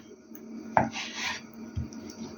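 A knife cuts through a baked meat roll with egg on a board, a single sharp contact followed by a brief rasping slice and a soft thud.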